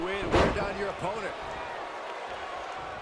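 A heavy thud from a wrestler crashing to the floor in the WWE 2K20 wrestling game, a single loud impact early on, followed by steady crowd noise from the arena.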